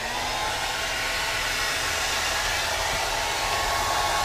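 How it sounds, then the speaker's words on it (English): A hair dryer in a cruise ship cabin, set to the hot setting and high fan, blows a steady, loud, even hiss with a low motor hum throughout. "Every cabin on every ship has hair dryer. So you put it on the hot setting"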